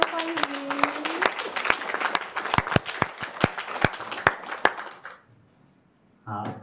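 A crowd claps warmly for about five seconds to welcome a speaker at a Tzu Chi Lotus Sutra reading group, with sharp individual claps standing out. The clapping stops abruptly, there is a brief hush, and then a voice starts speaking.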